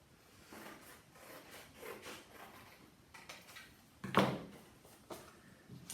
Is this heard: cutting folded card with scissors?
yes